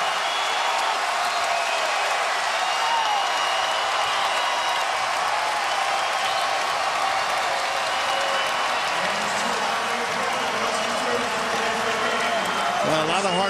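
A basketball arena crowd at a college game cheers and applauds in a dense, sustained roar that fills the whole stretch, with commentators talking over it.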